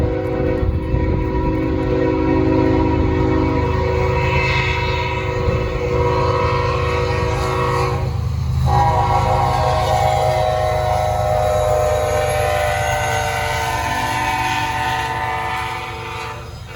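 Norfolk Southern freight train 25A passing southbound on a windy night: a loud, sustained rumble of rolling cars with long blasts of the horn sounding over it, fading slightly toward the end.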